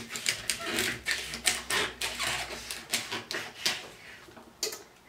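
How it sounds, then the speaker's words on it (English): A knife trims the ends off asparagus on a cutting board, giving repeated crisp close chopping taps in an irregular rhythm, fairly quiet with no one talking. "First, I'm going to trim the ends off of the asparagus."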